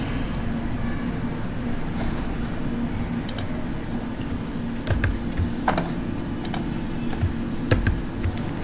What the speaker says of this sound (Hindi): control back space, control alt Z keyboard से